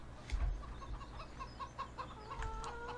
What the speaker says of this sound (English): And a packle of chickens